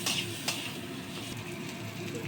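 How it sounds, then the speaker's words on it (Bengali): Steady sizzling of whole shrimp heads frying in oil, with a couple of faint scraping stirs, close and continuous. "চিংড়ি মাছের গোটা মাথা এতেই দিয়ে দিচ্ছি একসঙ্গে ভেজে নেব"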